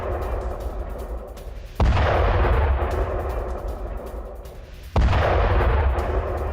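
Two heavy booms from a Ukrainian artillery brigade firing on a Russian military position in Donetsk, each a sharp loud blast followed by a rumbling decay, spaced about three seconds apart over a steady low background.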